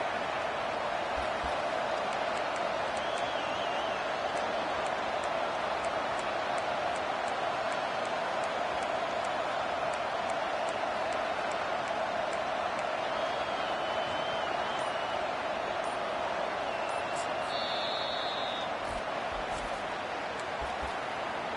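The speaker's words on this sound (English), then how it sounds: "Listen to this crowd just shaking the girders of this place, trying to help their defense." A large stadium crowd in a college football video game roars continuously at a distance, a steady wash of cheering with faint whistles and a commentator's voice over it.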